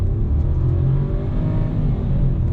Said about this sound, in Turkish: Dip gaz yaptım. Şanzımanı da S'e aldım.